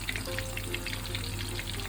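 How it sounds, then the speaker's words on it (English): Butterflied king prawns in a crisp coating fry in hot oil, giving a steady, close crackling sizzle with continuous bubbling throughout, no voices. "I'm just going to allow that to fry for a while now."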